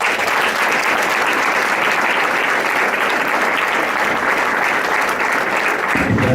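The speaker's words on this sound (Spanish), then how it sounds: "Un aplauso para él." A town audience applauds a local author in loud, sustained, dense clapping that continues evenly for several seconds and stops abruptly at the end.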